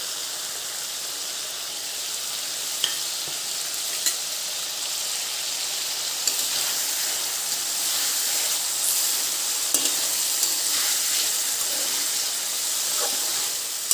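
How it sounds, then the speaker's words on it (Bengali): Poppy seed paste goes into a pan of pabda fish curry, frying in a steady, close sizzling hiss with scattered light clicks and pops from stirring throughout. "এখন আমি পোস্ত বাটাটা দিয়ে দেবো।"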